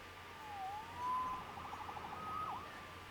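A police siren in the Spider-Man PS4 video game wails faintly with rising and falling tones, sounding distant and thin over a quiet background hum.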